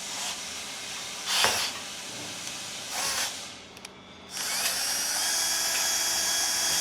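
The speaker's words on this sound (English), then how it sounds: "we're gonna use a 1/4 inch drill bit" A power drill with a 1/4 inch bit whines steadily and loudly, enlarging a hole on a Polaris Ranger XP 1000, with a couple of brief surges and a short pause before it runs on continuously.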